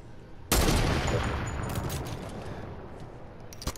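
A burst of gunfire in a shooting video game starts abruptly with a loud blast and decays into a dense rattling rumble, with a few sharper cracks near the end.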